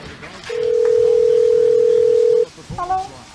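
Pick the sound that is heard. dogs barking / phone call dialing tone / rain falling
phone call dialing tone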